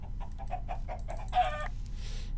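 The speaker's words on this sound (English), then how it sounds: "Chicken." A Minecraft chicken gives a quick series of short, evenly spaced clucks, followed by a brief rougher squawk and a soft airy puff, all clear with no speech over it.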